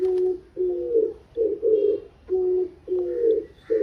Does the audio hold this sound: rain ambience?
no